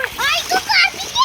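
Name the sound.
splashing while playing in water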